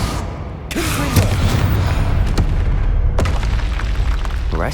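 Fiery spell explosions in the Hogwarts Legacy video game, with two sharp blasts roughly two and a half seconds apart over loud, continuous rumbling battle noise.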